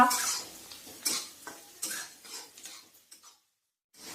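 A spoon scrapes and clatters against a pan while onion and peas are stirred for mix bhaji, giving several quick knocks and scrapes close by before a short silence.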